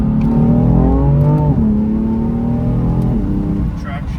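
A BMW M3 engine hums steadily while the car drives and corners, its pitch rising and falling slightly, loud and close throughout, with a person talking over it.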